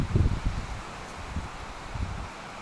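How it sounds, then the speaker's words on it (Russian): Strong gusty wind buffets outdoors in low, rumbling bursts that swell and drop several times over a few seconds, close to the microphone, with no voices. "Ветер везде аж задувает сегодня."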